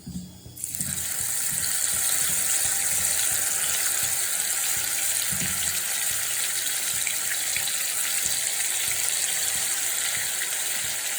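Prawns dropped into hot coconut oil in a pan set off a loud, continuous sizzle that holds steady and close for several seconds after a brief quiet start.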